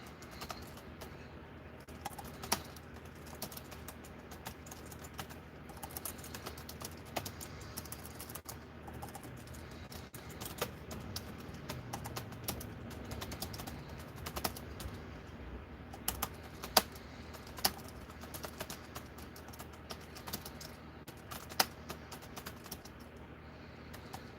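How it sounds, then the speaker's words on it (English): Rapid, irregular clicking on a computer keyboard as a question is typed during a live stream, faint and steady with brief pauses and no talking. "let me type out this question"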